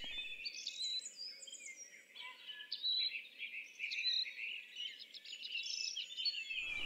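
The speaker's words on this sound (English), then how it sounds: "We can hear a couple of cuckoos." Birdsong at dawn near a lake, with several high chirping and whistling calls overlapping steadily throughout, fairly close and clear above a faint low background hum.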